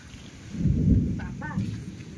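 Thunder rumbling as rain begins over a rooftop vegetable garden, a low rolling swell that builds and fades over a couple of seconds with the hiss of rain beneath it; a voice talks briefly near the end.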